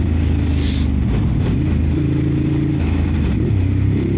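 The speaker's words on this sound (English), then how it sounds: "The sound of this bike is just amazing." A Ducati Monster 950 Plus motorcycle engine rumbles loudly and continuously up close, with a deep throbbing exhaust note and some mechanical clatter, without any talking.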